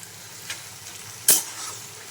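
Medicinal weed greens frying in a pan are stirred, a steady soft sizzle broken by one sharp scrape of the spatula and a fainter stir earlier, close by with no voices.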